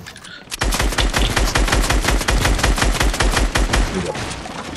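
Rapid automatic gunfire in Fortnite, a dense rattling burst of closely spaced shots starting sharply after a short pause and continuing loud and unbroken to the end.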